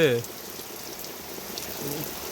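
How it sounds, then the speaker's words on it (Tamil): Rain falls steadily in a Tamil village as a constant soft hiss that runs through the whole moment. A voice speaks briefly at the start and again near the end. "மறுபடியும் மழையை பாருங்க"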